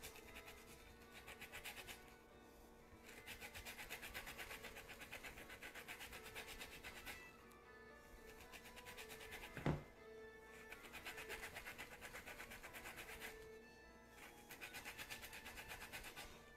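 Faint, rapid scratching of a grater zesting an orange, running in steady strokes with a few brief pauses and a single knock partway through.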